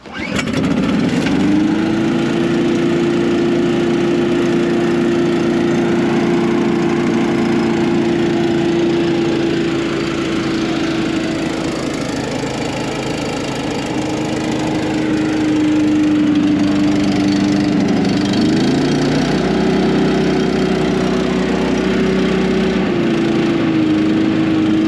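A Ditch Deal gas leaf vacuum, left unused for a year and smoking from old oil in the cylinder, runs close by with a loud, steady engine drone whose pitch shifts slightly as the throttle changes.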